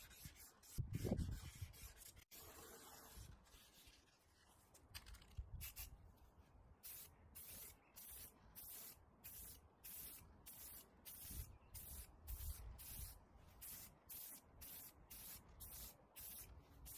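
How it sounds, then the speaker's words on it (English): A nearly empty can of gold spray paint sputters while spraying, giving bursts of hissy spray in a broken, stuttering rhythm, fairly quiet and close with no talk. "my gold spray can was almost finished. You can see it really sputtering away here."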